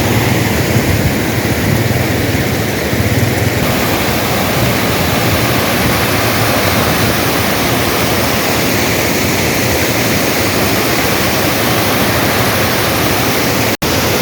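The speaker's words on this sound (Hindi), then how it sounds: "ये वाटरफॉल है पीछे।" A waterfall near Sharda on an early morning, a steady broadband rush of falling water that fills the whole clip at close range, with no talk over it.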